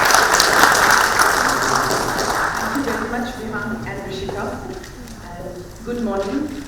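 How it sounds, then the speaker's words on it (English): Conference audience applause at a philosophy event on caste and race fills the room loudly at the start, then fades into scattered claps as a voice begins talking over it. "Please have a round of applause."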